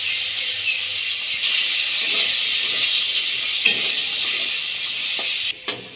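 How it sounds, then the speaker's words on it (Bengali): Carrots fry in hot mustard oil in a wok, giving a loud, steady sizzling hiss close up, with a few soft clinks before a brief break near the end. "এবার ওই তেলের মধ্যে আমি গাজরগুলো ভেজে নেব।"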